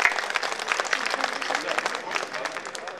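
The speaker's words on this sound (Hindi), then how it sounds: "एक बार जोरदार तालियां बजाइए।" Audience applause at a Hindi poetry gathering (kavi sammelan) in Dehradun, a steady dense patter of many hands clapping for about three seconds, fairly loud and close, with some voices mixed in.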